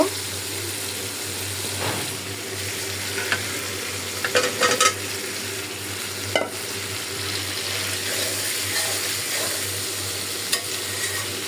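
Eggs sizzle steadily with fried spices in a hot pan while a utensil scrapes and stirs with occasional clinks against the metal.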